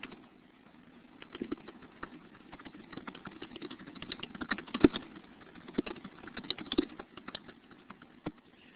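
Someone types on a computer keyboard, producing quick, irregular clicks and taps that are close but fairly quiet and continue steadily, alone without speech.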